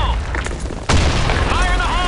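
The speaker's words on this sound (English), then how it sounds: "Grenade! Fire in the hole!" A grenade explosion in the video game BlackShot, a single loud, sudden boom partway through over constant game noise, with voices heard as well.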